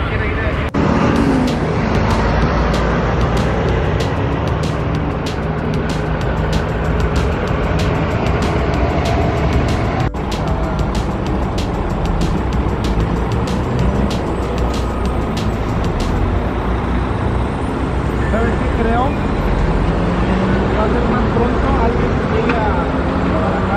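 Cars passing on a road in Mexico where police are flagging down traffic, a continuous loud roar of passing vehicles with rapid clicking ticks through the first part. A voice talks over the traffic.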